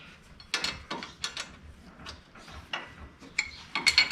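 A socket wrench ratchets on a strut bolt of a Subaru Outback during front wheel bearing work, giving a run of close, uneven clicking bursts with short pauses between them.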